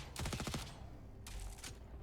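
An SMG firing in the video game Jump Space, two quick bursts of rapid automatic shots, the first longer than the second, crisp and close over quiet game ambience.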